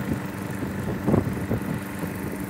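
Motor idling steadily after sitting unused for three weeks, a continuous mid-pitched engine drone at moderate level with a couple of slight swells, no talk.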